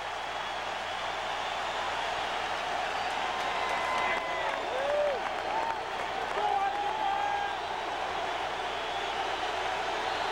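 Crowd noise fills a baseball stadium during a 1993 World Series game between the Blue Jays and Phillies in Philadelphia, a steady roaring din with scattered whistles and swelling cheers throughout.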